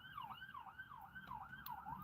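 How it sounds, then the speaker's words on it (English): An emergency vehicle siren, likely a fire truck or ambulance, wails in a steady rising-and-falling cycle near a rainy Walmart parking lot at night, moderately loud over low rumbling background noise. "big sirens. Must be fire trucks coming."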